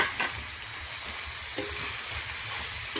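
Bathua greens frying in a tempering of ginger and chilli give a steady close sizzle and hiss, with a few soft stirring clicks over three seconds and no voices.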